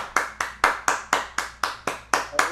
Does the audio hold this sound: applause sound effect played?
yes